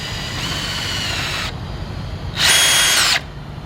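A power drill whines as it drives small screws into wood while building a lawnmower ramp, in two close bursts, the second higher-pitched and louder, separated by a brief quieter pause.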